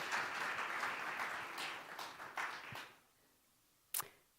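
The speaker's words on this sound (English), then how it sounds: "Just another round of applause for my panelists today" Applause from a conference audience at the Interledger Summit 2023 greets a panel, a steady spread of clapping that fades out after about three seconds, followed by one sharp isolated click.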